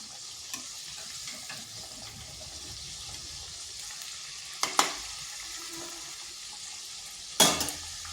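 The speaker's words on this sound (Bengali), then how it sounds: "আর এগুলো এইভাবে উল্টে পাল্টে ভেজে নিতে হবে" Potato and flour snacks frying in hot oil as they are turned, a continuous low sizzle broken by a couple of louder metallic scrapes and clinks of the spatula against the pan.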